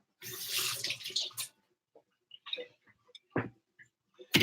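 Tap water splashing briefly over dropped food in a sink, a short close gush at the start followed by scattered drips, taps and faint knocks in near silence.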